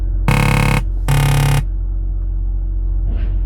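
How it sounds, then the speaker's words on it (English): A 2022 Peterbilt 579 truck's lane departure warning gives two loud electronic buzzing beeps in quick succession through the speakers, each about half a second, over a steady low engine hum, then quiet. "This is our lane departure warning system."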